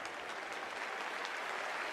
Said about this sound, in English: And now the applause